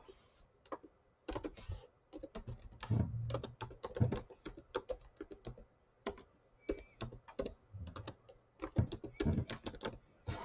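Typing on a computer keyboard, irregular bursts of close, crisp key clicks with short pauses between words, no talking.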